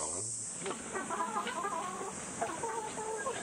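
Hens, including two South American breed birds, cluck softly and repeatedly on a natural farm in Kamakura, Japan, a series of close, moderate calls over a steady background hiss.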